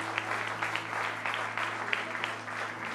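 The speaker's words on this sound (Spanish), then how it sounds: "dele un aplauso bien fuerte a nuestro Dios" A church congregation claps for God during an Ekklesia New York service, a moderate wash of applause with scattered sharper claps over a steady low hum in the hall.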